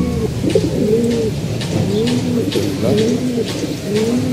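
Female pigeons cooing in a loft, repeated rolling coos in an overlapping rhythm, close and fairly loud, with a few sharper wing or foot sounds mixed in.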